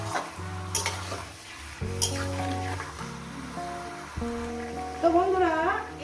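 Chicken frying and being stirred in a pan for a home-style chicken curry: a steady sizzle with scraping stir strokes, partly masked by a loud tonal background and a voice.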